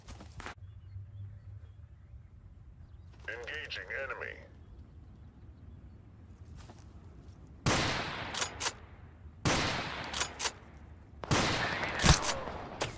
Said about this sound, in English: But we'll go shoot some more stuff with this so you can see some more.